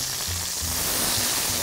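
A burger meat patty sears in a hot pan with a steady, dense, loud sizzle and crackle that holds unbroken throughout.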